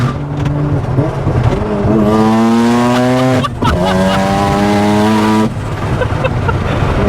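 Mazda RX-7 FD rotary engine, loud and close, idling roughly and then revving in two sustained rising pulls separated by a sharp throttle blip, before settling back to a lumpy idle.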